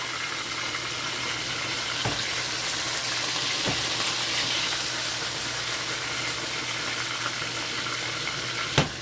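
Fish and okra frying in a pot, a steady dense sizzle that holds evenly throughout, with a few faint clicks of the pot and no talking.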